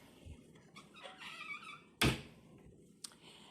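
Hotel room drawers in a DoubleTree Hilton in Syracuse being pulled open, with soft sliding and rustling followed by a sharp wooden thunk and a smaller knock, close by in a quiet room.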